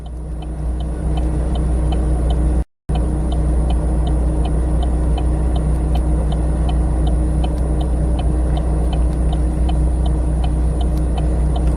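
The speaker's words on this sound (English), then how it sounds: "It's me and this truck out on the roads." A truck rolls along the road with a steady low engine rumble and road noise from inside the cab, constant throughout, with a faint rhythmic ticking above it and a momentary dropout early on.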